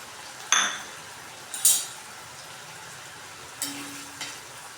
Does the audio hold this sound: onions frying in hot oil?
yes